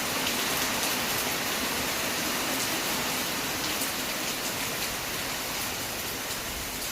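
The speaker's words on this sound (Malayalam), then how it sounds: "മഴ ഇന്ന് കനത്ത് പെയ്തുകൊണ്ടിരിക്കുക" Heavy rain pours down in a dense, even roar of falling water on a dark, thundery day. The downpour is loud and continuous, with no voices and no breaks.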